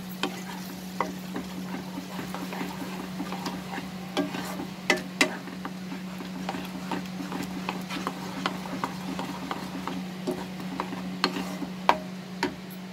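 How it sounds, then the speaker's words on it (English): Yogurt being slowly stirred into a simmering chicken kofta curry, a steady low sizzle with soft, irregular spoon clicks and scrapes against the pot throughout. "now slowly mix it with the curry"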